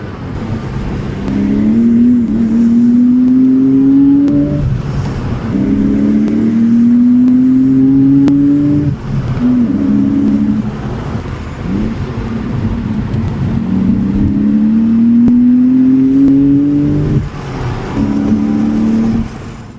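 Porsche 911 997.1 engine pulling through the gears while driving on open roads, a steady rising drone repeatedly climbing in pitch then dropping at each shift, loud and continuous with no talking.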